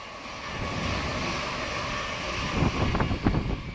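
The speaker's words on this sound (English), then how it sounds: "It's another Thameslink service, working a service to either Brighton or Gatwick Airport" A Thameslink Class 700 electric train passes a station platform at Elstree & Borehamwood, a steady, broad rushing roar with rising rumble and rattling toward the end, heard alone without talk.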